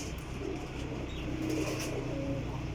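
Pigeons softly cooing in a loft of champion racing birds, low murmuring calls over a steady background hum.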